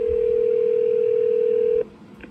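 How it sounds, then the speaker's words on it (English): A steady telephone dial tone plays on a Nortel desk phone while calling a DSC PC2550 alarm panel's telephone module, holding loud and unbroken before cutting off abruptly, followed by a faint click. "for now I'm just gonna dial the panel."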